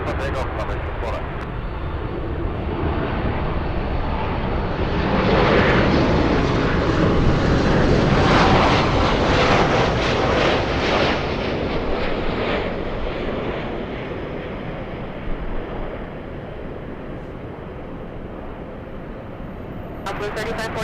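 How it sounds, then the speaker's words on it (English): Airliner taking off from runway 24 left at Los Angeles International Airport, its jet roar swelling to a loud peak midway and then fading as it climbs away, with faint radio voices and ambient airport noise. "Runway 24 left, clear for takeoff."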